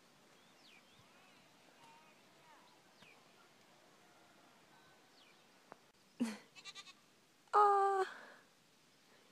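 A small goat bleats twice outdoors in hilly countryside, a short wavering call followed by a louder, longer quavering bleat, moderately near, with a brief exclamation from a person beforehand and faint birdsong in the background.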